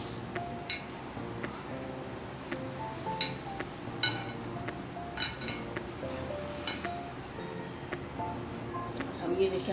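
A utensil stirs ghee and milk in a bowl, producing scattered light clinks and taps against the dish, soft and close, with no talking.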